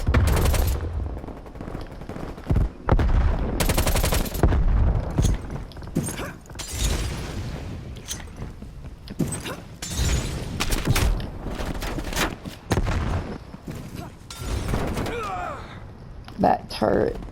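Rapid gunfire bursts from a turret in Call of Duty: Black Ops Cold War, loud and dense, with sharp repeated shots and booms mixed under game voices and clutter throughout.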